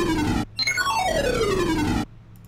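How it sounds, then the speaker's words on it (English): A resampled synth arpeggio pitched down in FL Studio sweeps downward in a warped, gliding cascade of tones, loud and alone, starting after a brief gap and stopping abruptly. "This is resampled ARP, and I just downpitched it."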